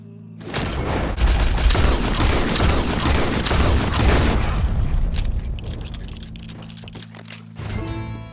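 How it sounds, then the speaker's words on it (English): Rapid gunfire and booming shots in Red Dead Redemption 2 gameplay, a loud dense barrage for several seconds that thins into scattered cracks and rattles before a brief final burst. "He shot the thing!"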